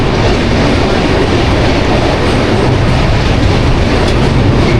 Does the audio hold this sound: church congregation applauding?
no